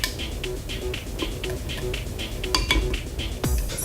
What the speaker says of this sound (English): Want to give a good mix.